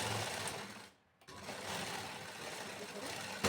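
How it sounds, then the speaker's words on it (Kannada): A sewing machine stitches a second line along the joined shoulder and neck seam of a lined blouse, running in a steady, close whir with one short pause near the start. "ಈಗ ಇದಕ್ಕೆ ಇನ್ನೂ ಒಂದು ಹೊಲಿಗೆ ಬಿಟ್ಕೊಳ್ಳೋಣ ನೀಟಾಗಿ."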